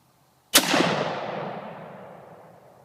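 A World War II US military rifle fires one sharp, loud outdoor shot, and its report decays slowly over two seconds in an otherwise quiet setting.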